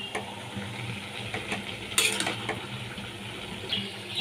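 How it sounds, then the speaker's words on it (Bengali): A spoon scrapes and clinks against a pan while cumin powder is stirred into a hilsa fish head and ash gourd curry, soft sizzling underneath and a few sharper metallic taps. "ভালো করে মিশিয়ে নিচ্ছি।"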